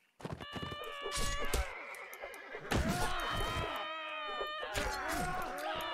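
A horse in the Mount and Blade: Warband video game neighs loudly and repeatedly at close range in long, shrill whinnies, with hoof clatter and other game noise around them.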